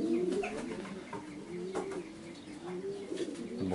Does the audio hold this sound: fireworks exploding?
no